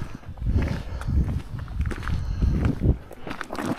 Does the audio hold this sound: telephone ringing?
no